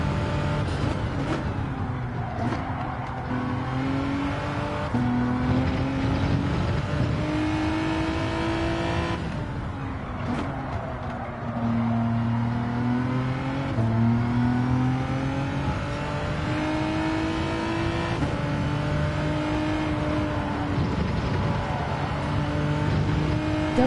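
A GT3 race car in a racing video game, its engine revving hard and climbing through repeated gear changes, with the pitch rising and dropping over and over as it accelerates down the track, loud and close.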